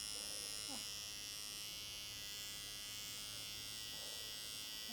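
An electric razor buzzes continuously inside the ear during a professional ear-cleaning session in Japan, a close, steady high-pitched hum throughout with no speech.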